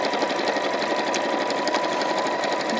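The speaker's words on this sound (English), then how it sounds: "So because it's a top stitch, I can lengthen it a little bit, which means I'm going to be sewing quicker" A sewing machine runs steadily at a lengthened stitch, top stitching close to a seam on a pinafore dress, its rapid needle rhythm continuous and near.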